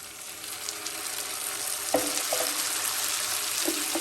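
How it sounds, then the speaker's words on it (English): Chopped tomatoes hit a hot pan and sizzle, making a steady bright hiss with a few soft knocks of a utensil partway through. No one speaks. "Now that it's fragrant, we're going to add the chopped tomatoes"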